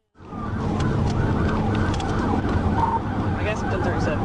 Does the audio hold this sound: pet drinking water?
no